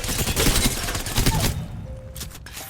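Rapid hip-fire gunshots in Apex Legends, a loud quick burst of shots for about a second and a half, then fading into quieter background noise with a faint tone.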